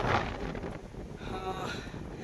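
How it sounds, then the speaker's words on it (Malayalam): Gusty wind on a hill climb at Kondarangi, Dindigul, buffets the microphone with a steady rumbling roar, rising and falling slightly, with no voices. "കാറ്റ് നല്ലപോലെ വീശുന്നുണ്ട്."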